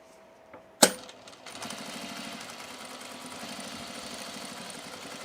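A sewing machine top stitching along a fabric edge, starting after a sharp click and then running in a steady, fast, close mechanical whir through to the end.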